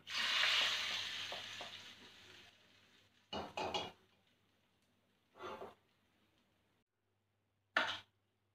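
Hot oil sizzling in a pan while green mango pickle is made at home, a loud hiss that fades over a couple of seconds, followed by a few brief clinks and scrapes of utensils against the pan.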